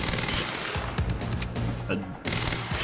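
Rapid gunfire from the video game Quantum Break, bursts of shots crackling over a continuous game soundscape with talk woven through, cutting out briefly before resuming.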